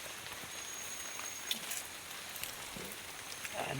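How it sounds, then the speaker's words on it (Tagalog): Light rain falls outside near a tunnel, a steady soft hiss of drizzle with a few faint drips and taps standing out. "Tungod sa ulan-ulan gamay"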